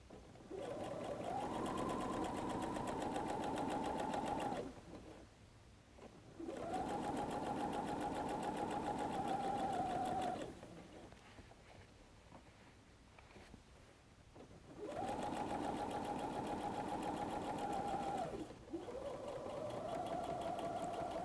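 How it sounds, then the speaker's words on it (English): A sewing machine stitches faux suede for a messenger bag in three long, even runs separated by quiet pauses, a close, steady mechanical hum with no voices. "I know it's a little difficult sewing on the faux suede."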